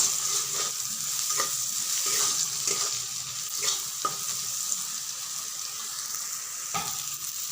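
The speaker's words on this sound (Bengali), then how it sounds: "এরপর আমি দিয়ে দিচ্ছি হলুদ গুঁড়ো। এখন নাড়াচাড়া করে নিব।" Eggplant frying in a pan with turmeric powder is stirred, giving a steady sizzle with repeated scraping strokes of the spoon against the pan, close and fairly loud, with no one speaking.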